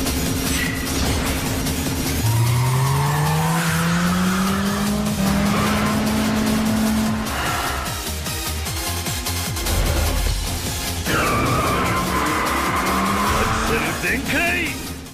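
A taxi's engine revs and rises in pitch as it drives in a Yakuza video game, with tires squealing now and then, loud and close, with some game-style background sounds.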